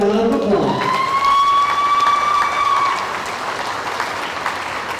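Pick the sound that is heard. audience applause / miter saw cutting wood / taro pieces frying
audience applause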